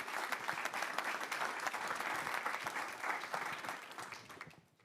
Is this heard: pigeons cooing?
no